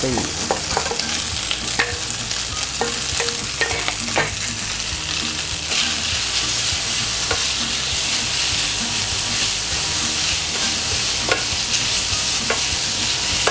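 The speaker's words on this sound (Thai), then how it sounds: "ไปคั่วให้พริกมันหอมก่อน ให้พริกกับกระเทียม มันหอมก่อนนะครับ" Dried chili and garlic stir-frying with spaghetti and bacon in a hot pan, giving a loud, continuous sizzle broken by sharp scraping stirs of the spatula, close up and with no voices.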